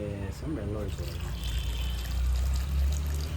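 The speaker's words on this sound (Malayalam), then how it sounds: "ശർക്കര വെച്ചിട്ടുണ്ട് ഇനി അതിലേക്ക് വെള്ളം ഒഴിക്കാം" Water poured onto jaggery in a wok to melt it, a close, continuous splashing pour, with a brief voice at the start.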